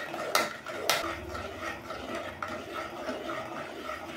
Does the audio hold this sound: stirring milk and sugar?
yes